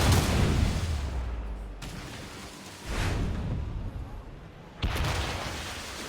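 Ship cannons fire in the naval combat of the video game Assassin's Creed Rogue, three heavy booms spaced a couple of seconds apart, each with a long rumbling decay.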